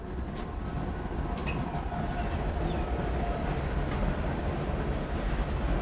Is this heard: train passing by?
yes